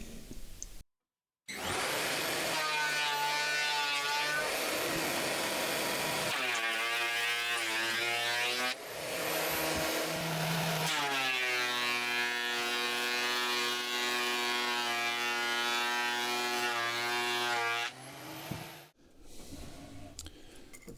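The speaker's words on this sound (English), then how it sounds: "With this thickness planer I will get these to the same thickness," A thickness planer runs wood through for a DIY table top, its loud steady motor and cutter roar sustained with brief dips between passes, close and alone.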